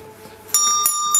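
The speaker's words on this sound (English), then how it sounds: "you have to ring the bell" A bell rung to start a round of play-wrestling between two kids at home: three bright metallic dings in quick succession, each ringing on with a sustained tone, loud and close.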